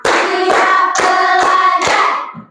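Children clap together in a rhythmic classroom counting game, five crisp unison claps spaced about half a second apart, loud and close, fading after the last.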